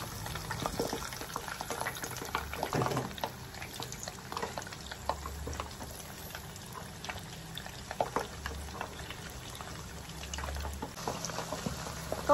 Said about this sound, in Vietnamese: cho con gà vô chiên nè